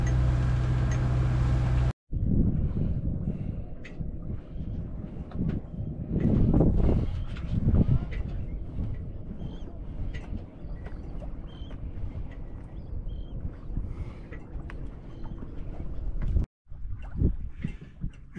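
A sailboat motors under engine on a windless sea near La Rochelle in August, with a low, steady diesel drone and rushing water throughout, broken by two brief cuts.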